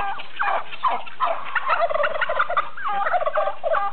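Turkey gobbling on a farm in springtime, a busy run of rapid, warbling gobble calls repeating close by for several seconds with no talk over them.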